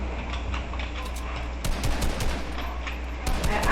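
Rapid bursts of gunfire in an online shooter video game played on a PC, sharp overlapping shots clattering loudly over a busy background.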